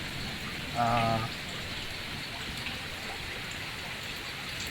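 Steady rain pours over a garden during a thunderstorm, a dense even hiss of drops on leaves and ground throughout, with a brief exclamation from a person near the start.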